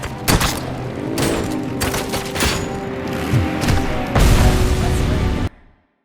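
Loud, rapid gunfire from the Robocop video game, dense bursts of shots and booms for about five seconds before cutting off abruptly.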